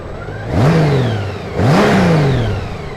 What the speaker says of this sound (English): Let's give it a bit of rev for you.